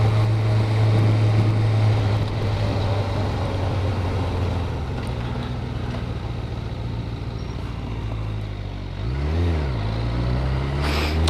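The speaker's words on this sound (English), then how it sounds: "Thought that was Shannon's car then." A car drives past on a road with a rising and falling engine drone, loud and close for a moment, while a steady low rumble of another engine runs underneath the whole time.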